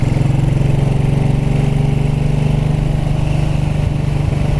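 A 1929 Ariel motorcycle engine runs loud and close while riding along country lanes, a steady, rapid mechanical thrum with a strong low hum and little change in pitch.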